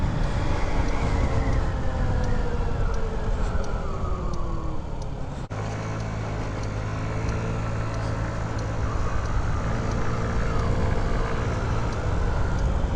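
Honda Ruckus scooter riding through city traffic, with a steady wind-buffeted engine drone and road noise close to the mic and no talking.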